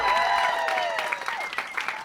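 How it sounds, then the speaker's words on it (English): Audience applause at a stand-up comedy show fills the clip, steady clapping with a few cheers, loud and sustained throughout. "Round of applause for David Quirk, everybody."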